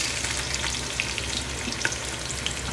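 Holy Trinity vegetables fry in pork grease for Cajun red beans, a loud, close, continuous sizzle with small crackles and pops scattered through it.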